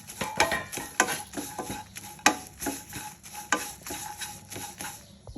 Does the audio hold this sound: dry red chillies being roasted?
yes